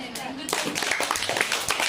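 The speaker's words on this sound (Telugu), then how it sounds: "క్లాప్స్." A group of children clapping together, a dense run of overlapping claps that goes on for about a second and a half while voices talk over it.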